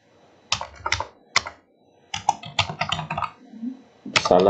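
Clattering bursts of typing on a computer keyboard, several quick runs of close, crisp keystrokes separated by short pauses, entering a deletion reason for a payment transaction in school administration software.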